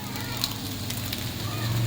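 Egg frying in a pan for chow mein: a steady sizzle and crackle with faint scraping as it is stirred, with a person talking over it.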